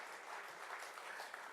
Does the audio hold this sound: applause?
yes